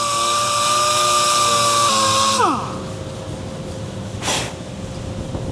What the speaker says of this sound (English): just want to sand this now to see how far this rust is actually traveling through this quarter panel